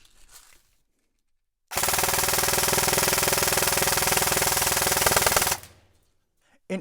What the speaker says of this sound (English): We're gonna see the rate of fire as well as the spread when you shoot this thing on full auto.